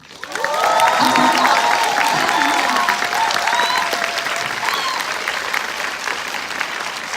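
After a stage appearance by actress Jeon Soo-kyung at a Mamma Mia 2 event, the audience breaks into loud, sustained clapping with some cheers, swelling quickly and then thinning slightly toward the end.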